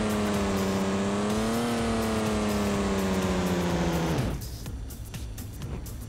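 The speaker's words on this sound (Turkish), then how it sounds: "Tekrardan içeriden sürüyoruz BMW'yi." Simulated BMW engine in the mobile game Car Parking Multiplayer, a steady harmonic drone that rises slightly in pitch, holds, then cuts off abruptly near the end, leaving a faint hiss.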